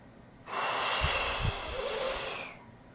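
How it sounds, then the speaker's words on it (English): One long, forceful Pilates breathing exhale, a breathy rush of air lasting about two seconds, close to the microphone and otherwise quiet. "I call it a doubly engaged exhale"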